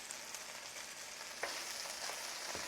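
Chicken searing in a hot pan for a coconut lime rice and mango dish, giving a steady dense sizzle with a few crackling pops, close and continuous without voices.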